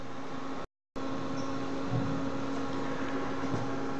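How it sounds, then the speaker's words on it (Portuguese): Cooling fan of a 75-watt class A amplifier runs with a steady, noisy whir and hum, constant throughout apart from a brief dropout near the start. "Por isso tem esse ventilador barulhento."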